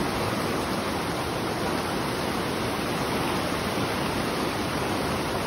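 Constant rushing water, broad and steady like a river or stream flowing close by, with no voices.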